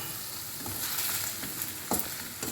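Paneer frying lightly in oil in a pan, a continuous gentle sizzle with a few soft scrapes of a spatula, close and quiet with no voices.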